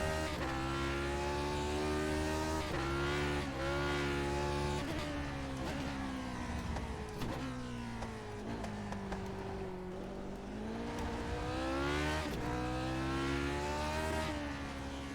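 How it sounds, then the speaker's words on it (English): Race car engine in the iRacing sim at Laguna Seca, a loud sustained engine tone that rises and falls through repeated revs, with a surge where it revs over a crest, close and continuous with no talk. "I revved it up over that crest"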